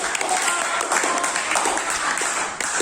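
Classroom applause from a group of students, a dense steady patter of many hands clapping at once, fairly close and continuous, with some voices mixed in underneath.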